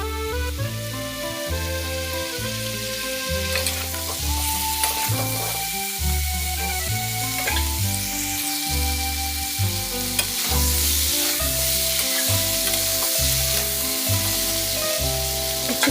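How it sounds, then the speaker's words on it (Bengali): Sea fish sizzles steadily in hot oil with salt and turmeric while being stirred, a continuous close frying hiss broken by rhythmic scraping of the utensil against the pan. "এখন দিয়ে দিচ্ছি লবণ আর সামান্য হলুদ গুঁড়ো দিয়ে আবারও ভালোভাবে নেড়ে চেড়ে ভেজে নেব।"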